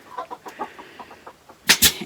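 Chickens packed into cages in a horse trailer cluck in short, rapid bursts at close range, ending in two louder, harsher squawks.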